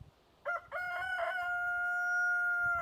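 A rooster crows in Texas at five in the morning, a few short clucks followed by one long drawn-out cock-a-doodle-doo, clear and fairly close in a quiet setting.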